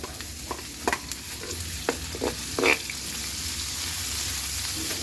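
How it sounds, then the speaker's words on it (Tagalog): Onion frying in a pan after garlic and ginger, a steady close sizzle with a few sharp crackles and light clinks of stirring, no voices. "Antayin lang nating mag-brown kaya ihulog yung sibuyas para lumabas yung kanyang aroma"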